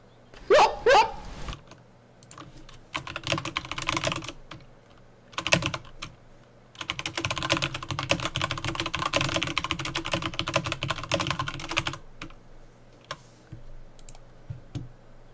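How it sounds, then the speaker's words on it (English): Rapid clicking and clacking of a computer keyboard goes on in dense bursts during a Dota 2 game session, close and fairly loud, with a brief pause before a long continuous stretch. "Stop typing."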